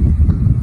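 Strong southwest monsoon (habagat) wind in the Philippines buffets the microphone in a steady low rumble, with no other clear sounds.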